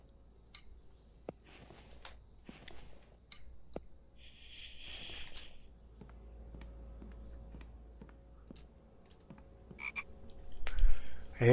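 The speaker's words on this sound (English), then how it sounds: "I hear you, Frog. You're stuck there, huh, buddy?" A frog croaks in the survival video game The Infected, giving scattered short clicky croaks and ticks over a quiet background that grows busier toward the end.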